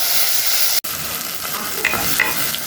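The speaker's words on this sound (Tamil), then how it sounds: "கருவேப்பிலை போட்டு ஒரு 2 நிமிஷம் வதக்கிட்டு நம்ம மீடியம் சைஸ் தக்காளி, நல்லா பழுத்த தக்காளியை போடுங்க." Ripe medium tomatoes sauté with onion and curry leaves in a hot pan: a loud, bright sizzle, a sudden brief drop, then softer frying with light stirring scrapes.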